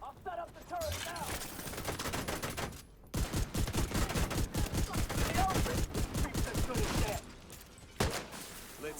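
Automated turret in a video game opens fire in long rapid bursts of evenly spaced shots, loud and sustained, with a short gap and a final shot, voices talking over parts of it.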